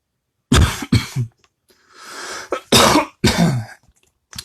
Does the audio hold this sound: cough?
yes